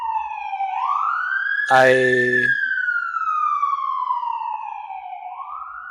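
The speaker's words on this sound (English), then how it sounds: "waiting for the sirens to end." A wailing emergency vehicle siren passes nearby, rising and falling in long sweeps, loud and clear, with a short deep horn blast and a brief spoken word in the middle.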